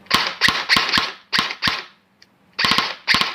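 Repaired electric M4A1 airsoft gun test firing: a quick run of sharp, close, loud cracking shots in short bursts, a brief pause, then more rapid shots.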